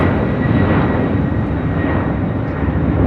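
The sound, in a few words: United Airlines Boeing 767-300ER taking off from LAX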